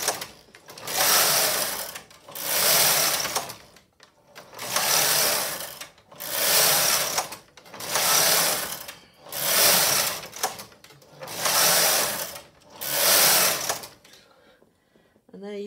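A Silver Reed SK155 chunky knitting machine knits row after row, the carriage making loud, grinding, mechanical swishes in regular two-second passes with brief pauses, ending with lighter clicks.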